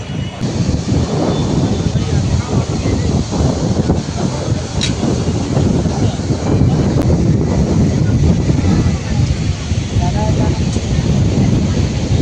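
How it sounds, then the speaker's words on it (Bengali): Strong sea breeze buffets the microphone on the beach at Puri, a loud, continuous rushing roar with low gusty rumble and no pauses, under which any surf is not distinct. "সমুদ্রের পাড়ে এত সুন্দর হাওয়া হচ্ছে"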